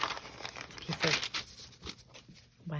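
Wax paper being handled and crinkled, with several close, light crackling bursts and rustles at a soft level, while a person talks intermittently.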